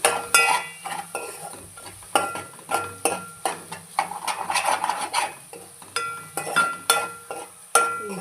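A spoon stirs chili powder into Maggi noodles in a pan, giving repeated close scraping strokes and sharp metallic taps against the pan in an uneven rhythm over a faint sizzle.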